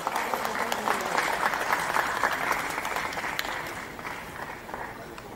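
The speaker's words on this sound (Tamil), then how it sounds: "ஸோ நல்ல கைத்தட்டல் அவங்களுக்கு கொடுக்கலாம்." An audience claps in a burst of applause, dense and even, slowly thinning toward the end.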